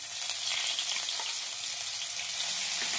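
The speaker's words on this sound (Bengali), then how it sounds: "আদাটাকে অল্প একটু ভেজে নেবো" Ginger paste fries in hot oil with a bay leaf, dried chili and cumin, giving off a steady, close, hissing sizzle that holds evenly without pause.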